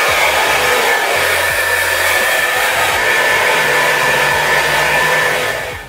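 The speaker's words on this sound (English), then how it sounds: "flip my hair downwards and just quickly blast dry it" Handheld hair dryer blasting steadily at full power while hair is rough-dried upside down, a loud continuous whooshing roar with a whining motor tone, lasting throughout with no talk.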